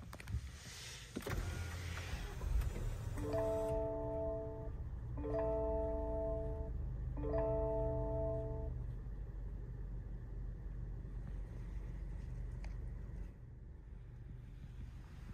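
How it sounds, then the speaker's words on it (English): A 2023 Lexus NX350 F Sport is started. Three evenly spaced tonal chimes ring out over a low, steady idle rumble, then the cabin settles into a quiet, constant hum. "Let's go ahead and start the vehicle."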